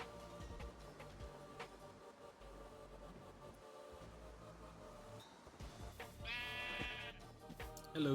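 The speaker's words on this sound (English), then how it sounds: "Hello, sheep." Sheep bleat in the Minecraft video game, with a couple of short bleats heard near the end over steady background game sound, moderately loud and with no talking.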